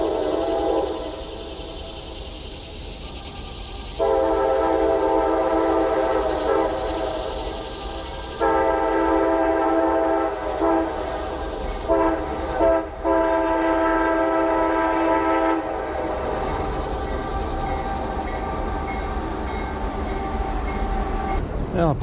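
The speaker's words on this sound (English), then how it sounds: "I apologize for the train still running in the background" A train rumbles past continuously near Harpers Ferry, West Virginia, with a loud, steady roar of railcars and clattering wheels filling the scene.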